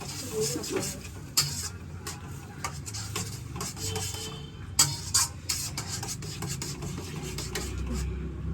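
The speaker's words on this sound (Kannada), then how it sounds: "ಈಗ ಆವಾಗಲೇ ರುಬ್ಕೊಂಡಿದ್ದ ಪೇಸ್ಟ್ ಇದಕ್ಕೆ ಹಾಕ್ತೀವಿ" Ground spice paste goes into a hot pan for egg curry and gets stirred, a continuous sizzle broken by scraping spatula strokes and clinks against the pan.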